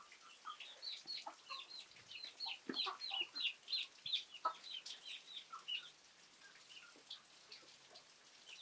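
Chickens kept for breeding at a farm coop, clucking and giving short high calls in a busy irregular chatter at moderate distance, over light rain-like patter, with no talking.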